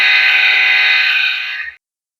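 Second Soundtraxx K5LA horn option on a model diesel locomotive sound decoder: a single loud, steady multi-note horn blast lasting under two seconds before a clean stop, heard on its own.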